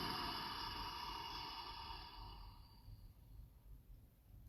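One long, exaggerated deep inhale from a breathing exercise, a soft airy rush close to the microphone that fades out after about three seconds, with no talk.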